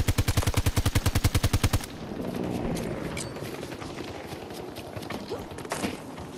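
A rapid burst of automatic gunfire in Battlefield 2042, a dozen evenly spaced loud shots, then a quieter stretch of distant battle noise with scattered far-off pops.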